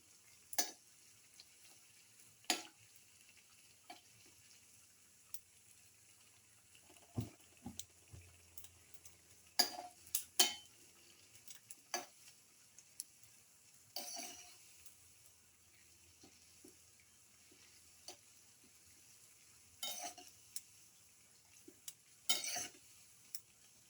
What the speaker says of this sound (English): Let it fry. Keep on turning from side to side